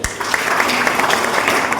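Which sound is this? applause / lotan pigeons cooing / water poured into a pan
applause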